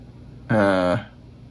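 An electric guitar played through a Fender amp model with the boost engaged rings out as one bright, sustained chord lasting about half a second before cutting off.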